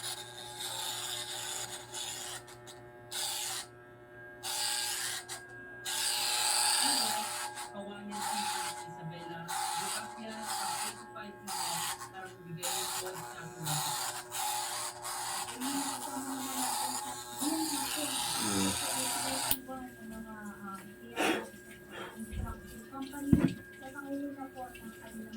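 A noisy, unoiled hair clipper runs with a persistent buzzing hum and rasping motor tone during a personal haircut. A person talks intermittently over it.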